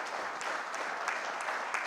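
Audience applause for event teams at a formal meeting, faint distant clapping that holds steady throughout.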